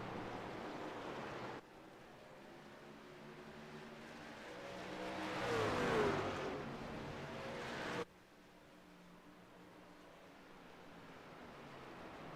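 Race trucks in a NORA Truck Series 250 race on track, heard as a distant, washing engine roar that swells as trucks pass midway, then drops back to a steady far-off drone.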